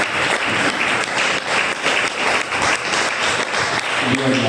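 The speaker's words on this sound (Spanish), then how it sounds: "Denle un fuerte aplauso que se lo merezca" A church congregation breaks into loud, sustained applause, a dense even wash of many hands clapping close by for several seconds with no voices standing out.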